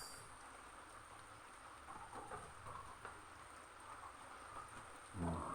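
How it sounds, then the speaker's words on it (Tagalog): Rain falls steadily as a faint, even hiss on a low-lying spot in Bicol, with a soft rumble late on and no voices. "Halos magdadalawang isang oras na yung kaulan."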